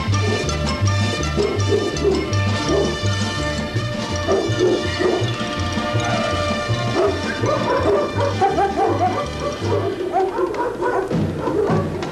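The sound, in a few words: dogs barking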